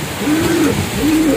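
A breeding pigeon gives two soft, low cooing calls close up, each a short rising-and-falling hoot, with a brief pause between them.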